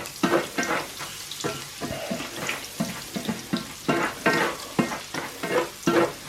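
Peppercorns and garlic sizzling in a hot pan while being stirred, with bursts of frying hiss and scraping strokes that come in an irregular rhythm, close and moderately loud with no talk.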